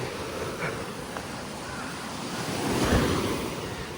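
Ocean waves break and wash along the steep, wall-like shore of Bodhi Beach in Pondicherry, a steady broadband roar with a louder surge near the end, wind buffeting the microphone.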